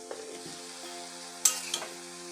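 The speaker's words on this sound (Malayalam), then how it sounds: "നമ്മൾ നന്നായി ഇളക്കി ചേർക്കുക." An elephant yam flower stir-fry sizzles quietly in a pan as it is stirred, with a soft steady fry and a couple of sharp scraping clinks near the end.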